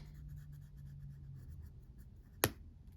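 Soft, quiet scratching of a coloured pencil across paper, followed by a single sharp tap or click near the end.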